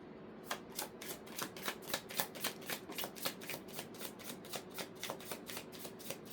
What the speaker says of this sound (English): as I was shuffling the cards,